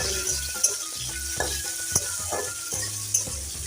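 Chopped tomato goes into a hot frying pan with cooked pumpkin and is stirred, giving a close sizzle broken by sharp spatula scrapes and clinks against the pan at a steady rhythm, with no talking.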